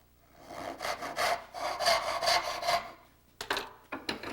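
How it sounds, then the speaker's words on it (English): A hand saw cuts wood along a marking gauge line for a corner joint, with rapid rasping back-and-forth strokes in two bursts, then a pause and a few shorter strokes, close and alone. "Start on a backstroke, cut down on the marking gauge line."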